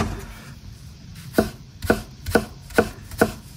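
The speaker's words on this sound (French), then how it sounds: "Et là, on va le hacher finement." A knife chops garlic and parsley finely on a cutting board in five crisp, evenly spaced strokes that grow louder after a quiet start, heard up close with no talking.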